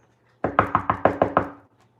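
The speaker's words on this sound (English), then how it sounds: "If I knock, he'll knock." Seven quick, evenly spaced knocks on a hard surface ring out close and crisp in a short burst, with silence before and after.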